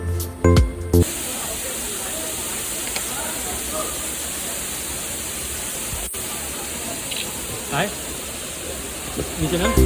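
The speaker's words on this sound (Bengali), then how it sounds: "ঝর্ণা যেখানে পড়ছে সেখানে পুকুরের মতন কিছুটা জায়গা আছে" A forest waterfall in Goa spills into a pool-like basin where people bathe, giving a constant, loud, full rushing hiss of splashing water with occasional faint voices beneath it.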